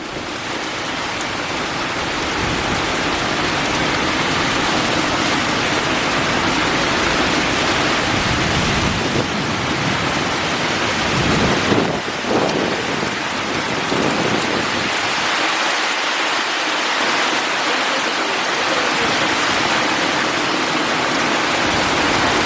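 Heavy monsoon rain pours down in rural Konkan, driven by strong wind that shakes the trees, making a loud, dense, unbroken roar that lasts throughout with no voices.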